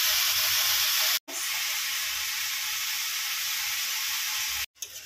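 Vegetables for a street-style veg kathi roll sizzle hard in a hot pan as about a spoonful of soy sauce goes in, a loud steady hiss broken by two brief silent gaps.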